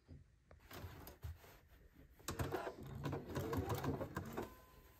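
A sewing machine stitches a dart in fabric, its motor running in short bursts at first and then in a steadier, louder run, close by with no talking.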